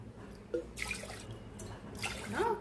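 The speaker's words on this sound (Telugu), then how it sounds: "క్లీన్ చేసుకున్న రైస్ లో మనం ఏ కప్ అయితే మనం రైస్ తీసుకున్నామో సేమ్ కప్ తోని 1కి 2 గ్లాసులు వాటర్ పోసుకోవాలండి" Water is poured from a cup into a pressure cooker holding washed rice for coconut rice, two brief faint splashing pours over a quiet low background hum.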